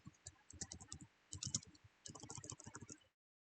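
Text is typed on a computer keyboard in quick runs of close, crisp clicks with a brief pause midway. The key presses stop abruptly into silence, and nobody speaks.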